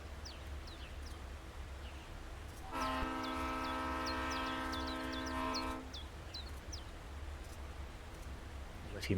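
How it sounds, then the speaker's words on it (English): A train in Train Simulator runs down the Saluda Grade, a low rumble with rail squeals throughout, and a loud sustained multi-tone horn blast in the middle lasting about three seconds. "Comes our train."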